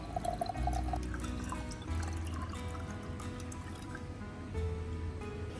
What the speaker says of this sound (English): use a strainer to remove the ginger, bay leaves, and cloves